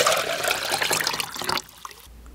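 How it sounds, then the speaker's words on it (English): Wine pours into four small cups: a steady, close trickling stream of liquid that stops abruptly, followed by a brief drip and quiet. "as Ya poured four small cups of wine"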